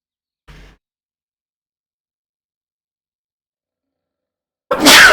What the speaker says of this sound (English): Just sneezing my brains out a little.